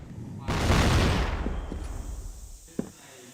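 A grenade blast in a competitive shooter game erupts as a loud, broad burst that slowly trails off, followed by a few fainter scattered pops and one sharp crack near the end.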